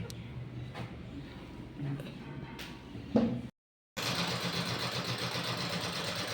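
Sewing machine stitching fabric, a steady close mechanical whir running under people talking, broken by a short pause midway before the motor resumes louder and continuous.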